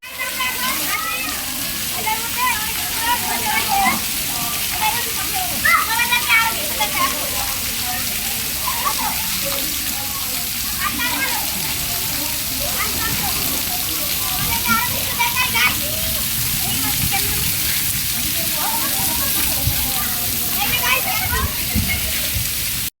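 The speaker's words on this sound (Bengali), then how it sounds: "এখন আসছি সুইমিং পুলে, মানে আমি এখন সুইমিং সাঁতার কাটছি" Swimming and splashing in a crowded water-park swimming pool: a steady, dense wash of sloshing water with children's voices and distant crowd chatter throughout.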